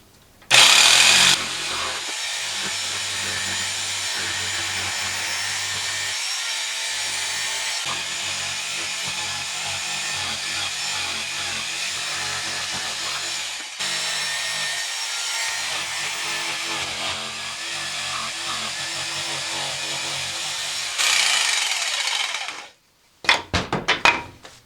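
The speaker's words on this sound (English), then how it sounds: "Now for the crossguard, it's the first 2-inch thick part that I need to cut." Sawing through a 2-inch thick piece of wood for a sword crossguard, a steady continuous rasping cut running for about twenty seconds, fairly loud and close, ending in a few clattering knocks.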